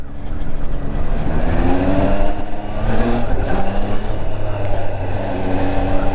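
A Triumph Trident 660 motorcycle engine pulls loudly and continuously under throttle while riding, with wind rush over the engine note.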